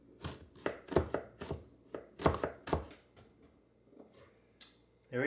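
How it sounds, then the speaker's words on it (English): A knife finely chops ginger on a cutting board in quick bursts of sharp, close knocks, several rapid strikes then pauses, with a quiet stretch near the end. "now we're going to finely chop up the 1 tablespoon of ginger"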